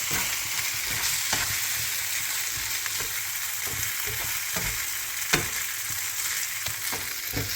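Noodles stir-frying in a hot pan with sauce, a steady close sizzle with scattered scraping and tapping of the utensil against the pan, no talking.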